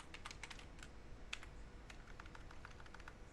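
Fingers tap out a short run of quick keystrokes on a computer keyboard, faint clicks in an irregular rhythm over a quiet room hum.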